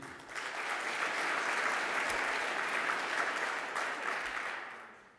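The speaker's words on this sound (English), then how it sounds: "Là aussi, nous allons applaudir Madame Suzanne McKenney." Sustained applause from a conference audience at an opening session, steady clapping that swells quickly and tapers off at the end.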